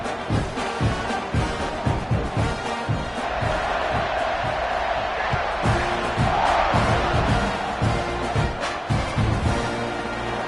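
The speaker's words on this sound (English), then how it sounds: "this crowd is buzzing after that last score" Football stadium crowd at an NCAA Texas A&M game roaring and buzzing steadily after a score, a dense continuous wall of cheering with scattered whoops and shouts throughout.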